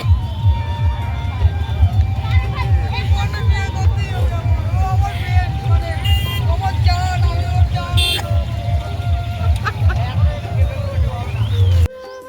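A crowded road is jammed behind a lorry. Dense crowd babble and the hum of idling engines carry on throughout, with scattered car horns and a person talking over the noise.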